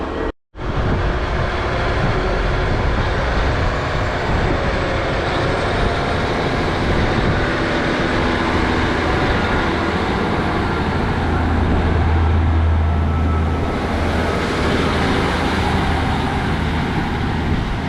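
Class 152 diesel multiple unit pulling out of Grangetown station in South Wales, a loud, close and continuous engine drone and rumble with a low throb building near the end.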